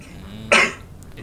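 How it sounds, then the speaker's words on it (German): A single sharp cough, close and loud, bursts out once mid-clip against a quiet background during a Star Wars: The Old Republic gaming session. "Alter, mit meinem Husten."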